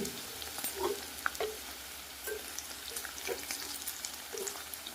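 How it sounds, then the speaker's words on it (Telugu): Potato pepper fry sizzles steadily in a pan, with intermittent scraping and stirring strokes and small crackles throughout, close and fairly loud, with no voices. "మధ్య మధ్యలో వేపుడు కదుపుతూ ఉండండి"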